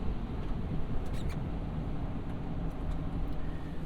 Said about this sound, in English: I get a bit of road noise from these tires